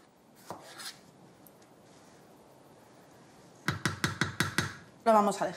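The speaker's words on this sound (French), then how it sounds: "On va maintenant émincer 2 tomates qu'on ajoutera au mélange." A knife slices through two tomatoes on a board, about seven quick, evenly spaced cuts in a short burst, close and crisp, with a voice talking before and right after.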